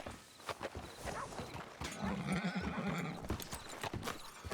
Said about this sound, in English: Great horse, buddy.